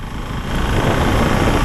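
A Husqvarna Vitpilen 701 motorcycle with a 700cc engine runs steadily, a loud, rough, unbroken rumble close by with no talk.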